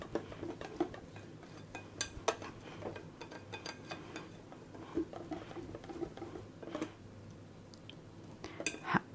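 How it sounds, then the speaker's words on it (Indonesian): Soft, irregular tapping and clinking of a spoon stirring rested banana fritter batter in a bowl, close and fairly quiet, with light scraping ticks scattered throughout and no talk. "kita aduk lagi sedikit"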